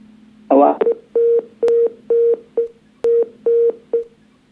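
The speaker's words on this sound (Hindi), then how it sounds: "पंडित जी का फोन कट गया।" A telephone line right after a call drops, giving a steady run of about eight evenly spaced electronic beeps, each close to half a second long, loud and clear with no talk over them.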